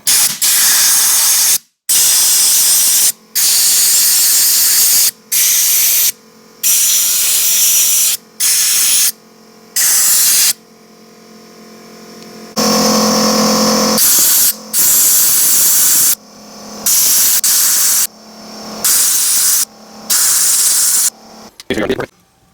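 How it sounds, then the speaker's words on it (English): Compressed air sprays over DeLorean bulkhead connectors in a long series of loud, close hissing bursts separated by short pauses. "using a compressed air to clean out the bulkhead connectors here will help a lot"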